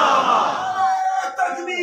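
A large crowd at an outdoor religious gathering roars a short chanted slogan in unison, a loud swelling shout that fades within two seconds.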